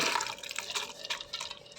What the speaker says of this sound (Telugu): బాగా అన్ని మునిగేడుగా వాటర్ వేసుకున్నాము